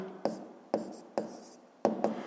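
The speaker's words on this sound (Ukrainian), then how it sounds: "Пишемо тоді відповідь." A pen writing an answer by hand on paper during a fifth-grade math exercise, quiet close scratching strokes in short bursts with sharp taps as each stroke begins, five or six in a row.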